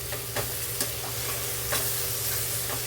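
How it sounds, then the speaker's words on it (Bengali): Chopped tomato stirred and fried into chicken masala over a low flame, a continuous sizzle broken by several sharp spoon scrapes against the pan, close and clear with no talking. "এখন একটি টমেটো কুচনো আমি অ্যাড করে দিলাম দিয়ে এটাও আবার ভালোভাবে আমি নাড়াচাড়া করব"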